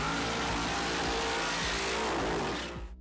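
Top Fuel dragster race cars roar at a drag strip, a dense, loud, continuous engine blast with rough pulsing underneath, cutting off abruptly at the end.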